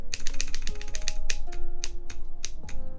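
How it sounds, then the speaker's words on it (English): Keys and the spacebar on a Keycult No. 2 mechanical keyboard are pressed in quick, irregular succession, producing sharp close clacks and a few deeper thocks over about three seconds. "I think that's just the way the spacebar sounds in this"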